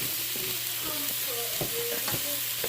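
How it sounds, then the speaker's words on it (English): Chopped onions sizzle steadily in a hot pan for vegan fried rice, with a spoon scraping and stirring through them in a few brief clatters over the continuous frying hiss. "that's how much onion I put. And mix it and wait until the onion will get cooked as well."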